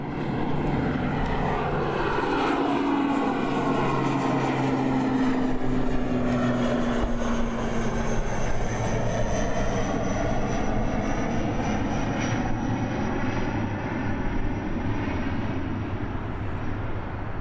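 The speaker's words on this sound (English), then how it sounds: "Those propellers." Propeller aircraft engines rumble loudly at a foggy Christchurch Airport, a sustained drone with a falling tone as the plane passes, steady throughout without speech.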